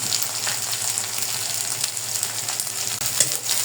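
Ginger and garlic paste fries in a pan with a steady, close, continuous sizzle and crackle that never lets up, and no voices are heard over it.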